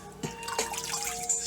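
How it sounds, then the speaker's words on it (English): Water from a jar splashes and trickles over a TREBLAB HD7 Bluetooth speaker in a few quick pours, with faint dripping and gurgling, fairly close. "I have a jar full of water, so I'm just going to pour it all over the speaker."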